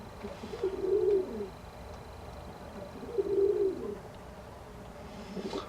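Pigeons coo in two drawn-out, rolling calls about two seconds apart, moderately close, over a steady background hiss with no talk.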